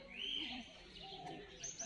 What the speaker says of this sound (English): there's lots of birds